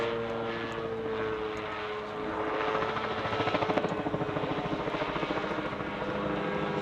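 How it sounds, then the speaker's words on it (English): A sport autogyro's engine drones steadily nearby during a barrel roll, with a rhythmic rotor-blade flapping that grows stronger partway through as the machine pulls extra G's. "when the machine pulls extra G's, you can hear the blades flap a little harder"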